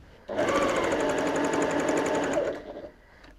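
A bernette 08 straight stitch sewing machine runs a steady burst of rapid stitching for about two seconds, close and fairly loud, then slows and stops with no talking.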